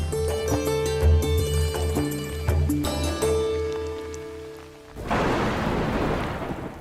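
Steady rain pours down with rolling thunder, dense and loud, joined near the end by a heavy burst of downpour.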